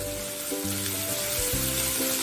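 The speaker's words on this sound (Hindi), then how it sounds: "ये भी अभी एक बड़ा टमाटर इसको भी दो मिनट के लिए अच्छे से भून देंगे" Tomato and coriander leaves roasting in a hot pan give a steady, close sizzle with a low rhythmic hum underneath, continuous for the whole stretch with no talking.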